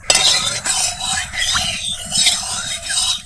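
Melted ghee is spread around a warmed kadai with a utensil, giving rhythmic metal scraping strokes and a faint sizzle, while someone talks intermittently.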